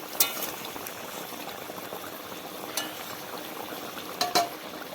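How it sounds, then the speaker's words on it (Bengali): Egg and eggplant curry bubbling in a pan, a steady soft simmering hiss with a few light clinks and scrapes as it is gently stirred, close but quiet. "তুলে দিলাম বন্ধুরা হালকাভাবে একটু নেড়ে দেবে বন্ধুরা এইভাবে না হলে ডিমের কুসুমটা বেরিয়ে যাবে"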